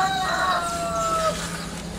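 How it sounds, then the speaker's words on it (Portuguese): A rooster on a rural property in Minas Gerais, Brazil crows in one long drawn-out call that fades at the end, heard at moderate distance over a steady background hum. "E o galo tá faceiro ali."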